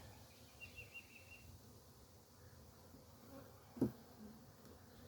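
A swarm-trap honeybee colony buzzes steadily during a hive frame inspection, a faint, continuous hum close by, with one brief knock partway through.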